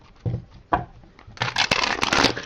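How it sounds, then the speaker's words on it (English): A deck of cards is shuffled up close: two quick riffle bursts, then a longer, dense fluttering riffle of cards slapping together, loud and alone. "I think I'm getting better at shuffling this."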